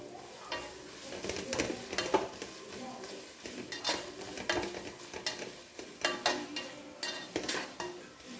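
Green chillies and crushed garlic are sautéed in a pan, a steady sizzle broken by repeated scraping strokes of a spatula and clinks of metal against the pan, close and fairly quiet, with no talking.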